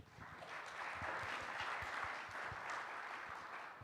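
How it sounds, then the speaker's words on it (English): A conference audience applauds after a talk, a dense, even patter of many hands heard from a distance that holds steady for several seconds before easing off slightly. "Let's give, excuse me, one more round of applause for Gabriel."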